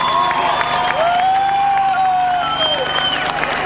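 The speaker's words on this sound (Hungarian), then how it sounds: "Fogadja most nagy tapsőket a színpadon Bódi Gusztit és családját." A stage audience applauds and cheers to welcome a family of performers, heard as a dense, loud, sustained wash of clapping with a voice and tonal music over it.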